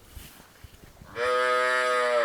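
A black Kapila or Gir cow on a farm gives one long, loud, close moo that holds steady after a second of quiet farmyard background.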